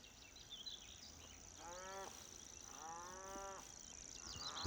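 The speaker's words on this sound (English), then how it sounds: "That's a cow." A cow moos twice in the distance, each call a long drawn-out low, heard outdoors in a spring nature setting over a steady hiss of insects and birds.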